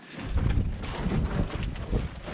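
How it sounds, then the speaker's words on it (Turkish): Strong wind gusting against the microphone in a continuous low roar that rises and falls, close and loud, with no talking. "Bayağı rüzgar var."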